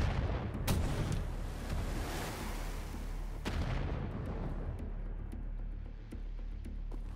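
A rocket fired at an enemy in the shooter Wolfenstein: The New Order bursts out as a loud, rumbling blast with a sharp crack, followed by a few smaller booming hits over a steady low roar of game noise.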